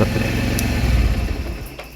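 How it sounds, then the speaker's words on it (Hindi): Bajaj Pulsar 150 BS6 motorcycle engine idling close by with a rough, pulsing beat, then cutting out near the end as the engine switches off, leaving a quieter tail. "इंजन का साउंड जो है बंद हो रहा है"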